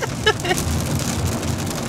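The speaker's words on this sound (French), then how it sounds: "si vous allez m'entendre avec le bruit de la pluie" Steady rain patters on a city street in Toronto's Distillery District, a dense, even hiss that fills the whole two seconds, with a few brief louder spatters near the start.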